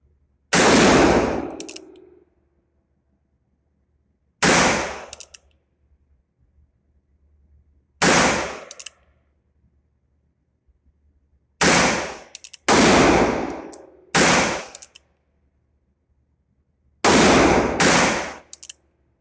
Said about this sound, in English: I'm shooting a little high with it, so let's see if we can adjust my aim